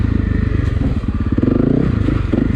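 Honda CRF250 Rally motorcycle being ridden by a heavy rider, a loud close engine drone with pulsing rhythm and clattering, scraping noise over the terrain.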